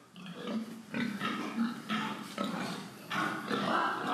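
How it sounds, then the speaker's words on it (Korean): Pigs grunting repeatedly in a farm pig shed beside a pepper greenhouse, a steady run of close, overlapping grunts and snorts without speech. "고추 농사만큼이나 애지중지 길러온 돼지입니다."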